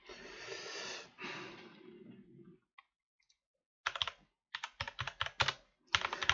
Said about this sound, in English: You'll probably be able to pick up the keyboard again now.